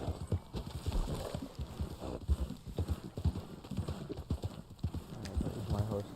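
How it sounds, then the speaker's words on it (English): Horse hooves clip-clop up a path in the Red Dead Online game, a steady run of hoofbeats heard under ongoing conversation between players. "Is that your horse coming up the path?"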